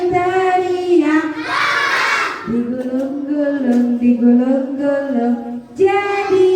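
A group of school children in a classroom lesson shouts together during a chant, high voices loud and close, rising to a noisy burst of yelling before the chant carries on.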